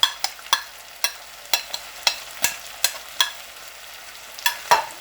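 Ground ginger and chillies are stirred into frying chicken for a ginger karahi, with a spoon clacking sharply against the pan about a dozen times in an uneven rhythm over a soft, steady sizzle.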